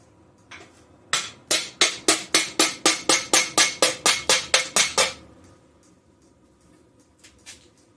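A hammer strikes a sheet metal patch held against a vise on a 1975 Super Beetle front panel, a dozen loud, ringing metallic blows in a quick even rhythm, close up, followed by a couple of faint taps.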